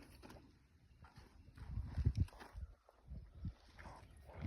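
Faint, uneven clip-clop of hooves on the ground at a distance, with low rumbling and shuffling in the background.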